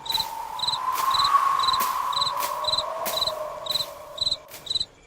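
Crickets chirp in short, regular pulsed trills over a steady background hum, evenly paced and moderately loud, with no voices.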